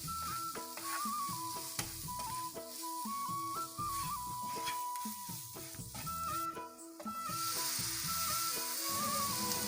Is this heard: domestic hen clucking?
no